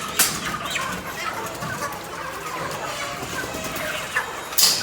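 Live chickens packed in a crate cluck and squawk in scattered bursts, close and busy, with a sharp cry at the start and another near the end.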